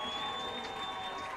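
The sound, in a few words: football fans cheering the defense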